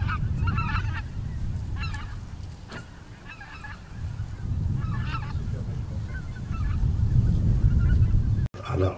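Pink-footed geese wintering at Uitkerk honk repeatedly in loose bursts of overlapping calls, a flock heard fairly close over a steady low rumble of wind or distant traffic.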